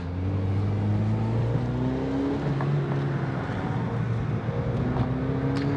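A Mazda NC Miata's engine drones steadily while held in second gear on a race track, rising and falling in pitch as the car lifts and accelerates through corners, heard from inside the cabin without talk.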